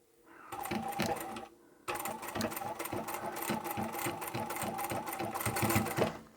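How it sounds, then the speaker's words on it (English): A sewing machine runs steadily, stitching straight across a beanie cap seam, with a brief pause for a back stitch before resuming its rapid, even mechanical chatter up close. "just sew straight across. We're going to sew right on the edge of the stitching line"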